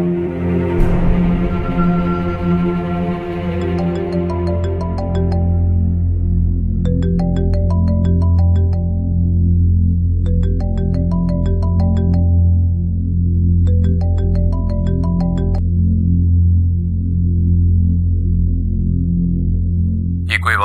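A phone rings in repeated electronic bursts, four short trilling patterns spaced a few seconds apart over a steady low musical drone.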